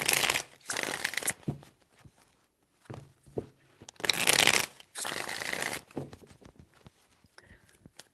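Tarot cards are shuffled in three separate bursts of fast, crisp riffling and flapping close to the listener, with quiet gaps and soft handling between them.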